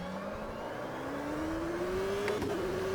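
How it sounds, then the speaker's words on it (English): In the Automobilista sim racing game, a race car's engine climbs steadily in pitch under hard acceleration, a continuous moderately loud drone with a brief sharp chirp of rear wheel spin near the end. "You could hear the rear wheel spin in there."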